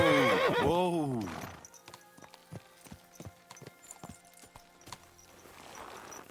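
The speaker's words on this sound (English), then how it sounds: "Horse riding feels like it's getting a little easier." A horse in the medieval game Kingdom Come: Deliverance 2 lets out a loud close whinny, then its hooves clip-clop in a steady, evenly spaced rhythm at a quieter level.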